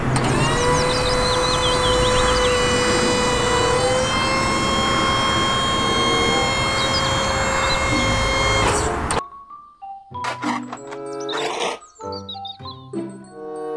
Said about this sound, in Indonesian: Mobil truk tangga pemadam kebakaran.